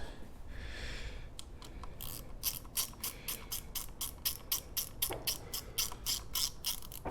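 A ratchet wrench clicks in a rapid, steady series while tightening the small nut on a motorcycle clutch lever, close and crisp, with a brief scraping start and no talking.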